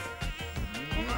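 A mosquito whines and buzzes in a short burst from a TV advert for a smart mosquito-control device, a thin pulsing drone that swells and fades several times, close and alone.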